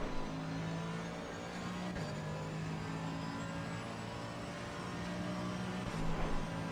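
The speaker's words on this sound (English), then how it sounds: "Hard on the accelerator as soon as the nose is in." Race car accelerating hard out of a tight corner at the Red Bull Ring, a steady droning engine note that rises slightly near the end, heard continuously from close by.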